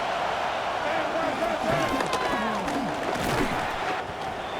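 Stadium crowd in a Madden 26 game between the New England Patriots and San Francisco 49ers roars steadily through a third-down play, a dense wall of cheering with rising swells and scattered shouts.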